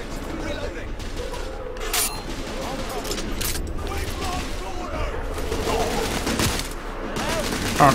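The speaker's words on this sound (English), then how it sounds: "Oh, it's the machine gun?" Gunfire fills a dense game battle from The Order 1886, with rapid machine-gun bursts and booms layered into continuous loud combat noise, steady throughout and mixed with other effects.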